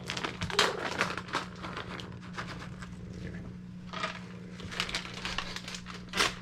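A pet named Stubby crunches treats inside a Transit van. The crunches come as faint, irregular crackles in the background over a low steady hum.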